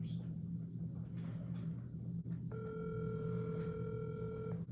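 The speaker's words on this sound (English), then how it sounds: "Nobody's answering the phone." An unanswered outgoing phone call plays a single ringback tone through the line, a steady electronic buzz lasting about two seconds, over a low constant rumble.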